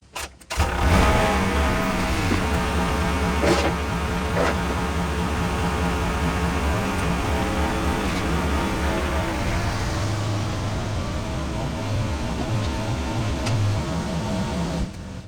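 A Caterpillar excavator engine starts up and then runs loudly and steadily as the machine moves, a dense, close diesel rumble with clanking that keeps going without a break.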